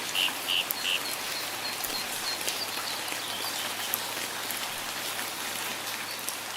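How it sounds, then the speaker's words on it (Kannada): Steady rain pattering on a surface, dense and continuous, with a few faint bird chirps early on and no voices. "ಒಂದಿನ ತುಂಬಾ ಜೋರಾಗಿ ಮಳೆ ಬರುತ್ತೆ"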